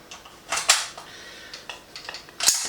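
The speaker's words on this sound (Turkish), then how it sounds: "Şu şarjörü sökmek için" Magazine being removed from an Aksa Crosfair T14 36-gauge shotgun, heard as a few sharp metallic clicks and clacks close by, with a louder snap near the start and another at the end, no talk.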